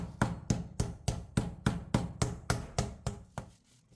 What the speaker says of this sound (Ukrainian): Складаємо всі шматочки філе на дощечку, накриваємо харчовою плівкою та починаємо гарно відбивати